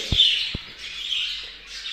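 Pet birds in a cage near their nest give high, thin chirps and twittering in short bursts, fairly faint, with a couple of soft low knocks at the start.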